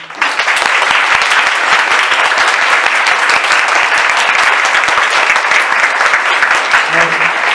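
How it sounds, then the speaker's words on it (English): A large audience gives fighters a big round of applause at a fighting event: dense, loud, sustained clapping that runs unbroken from start to finish. "please give them a big round of applause again."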